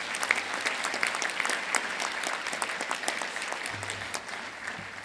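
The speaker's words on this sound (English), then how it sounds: "Can we give Professor another round of applause, please?" An audience at a disaster preparedness workshop applauds steadily for a professor, a dense continuous clapping that stays fairly even throughout, with a low hum entering near the end.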